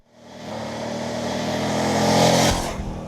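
Ducati 900 SS motorcycle engine revving up in a rising, loud drone that swells then cuts off sharply near the end, close by with no talking.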